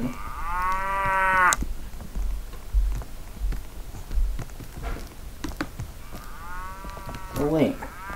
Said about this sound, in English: these beautiful cows